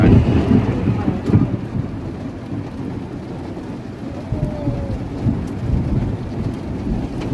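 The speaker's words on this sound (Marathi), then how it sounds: "बाहेर जोरदार पाऊस पडतो." Heavy rain pours steadily outside a parked car at a campsite in the United States, with low rumbles of thunder rolling underneath, a dense, continuous wash of sound close by.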